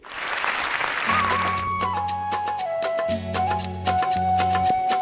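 Applause from the studio audience welcoming a singing contestant on an Indian TV talent show: a brief, dense burst of clapping that lasts about a second before music with a steady beat takes over.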